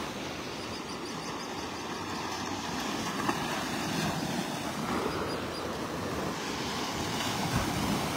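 Ocean waves roll and wash continuously onto a beach in North Naples, Florida, on a morning with choppier surf than usual, a steady broadband rush with wind buffeting the microphone and no voices.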